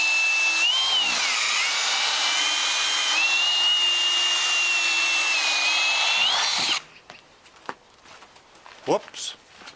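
Close, loud, steady whine of a power drill running a 4000 grit sanding pad on a yellowed car headlight for about seven seconds. The pitch wavers slightly, then the drill cuts out, leaving faint handling noises and a short voice.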